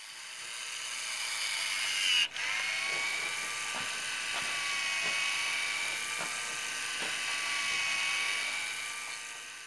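A Celestron motorized telescope focuser runs through its calibration travel with a thin, high electric whir and a faint, regular ticking, close and steady, broken by one brief clunk early on.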